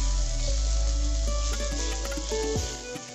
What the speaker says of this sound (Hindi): इस मसाला को इसमें ऐड कर देंगे और अच्छे से भी से हम 1 से 2 मिनट के लिए इसकी भुनाई करेंगे